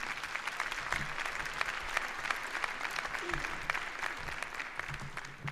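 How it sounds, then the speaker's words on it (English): An audience at a SUNY Oswego commencement ceremony applauds with dense, steady clapping that fills the hall and carries on evenly from start to end. "Let's give another round of applause to Professor Kay."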